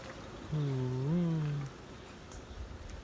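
A small orange kitten gives a single drawn-out meow with a rising bend, close and clear, over quiet background noise.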